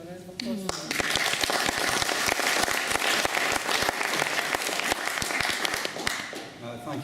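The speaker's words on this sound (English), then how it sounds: "So if you would all give him a round of applause." Audience at a Labour for Independence referendum meeting claps loudly and continuously for a speaker, dense steady applause that swells after a brief opening and tapers slightly at the end.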